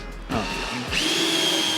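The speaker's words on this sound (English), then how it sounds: "he's drilling holes into the freshly painted engine bay." Cordless drill boring holes into the freshly painted engine bay of a Nissan S15 during a wiring build, a close, steady whirring that rises in pitch as the bit bites, continuous throughout with no talking.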